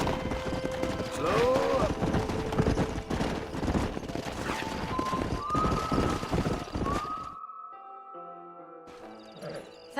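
Horse hooves clip-clop in the Western video game Red Dead Redemption, a steady trotting rhythm in a busy mix with gunfire-like bursts and a voice, before the scene drops to quieter tones near the end.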